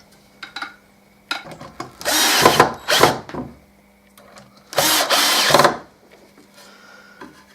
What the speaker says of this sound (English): And now I'll get these screwed on.